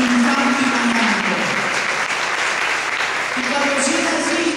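A church congregation claps loudly and continuously, with a sustained voice or tone rising over the applause and some mixed voices underneath throughout.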